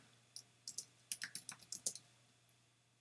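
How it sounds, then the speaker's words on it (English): Fingers type out a mailing address on a computer keyboard, giving about a dozen crisp, close key clicks in uneven bursts, with a short pause before one last tap. "I'm going to type out my address"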